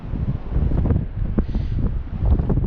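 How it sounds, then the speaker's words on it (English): Strong wind on a frozen lake while ice fishing, roaring and buffeting the microphone in loud, rumbling gusts with no break. "because it's just so darn windy"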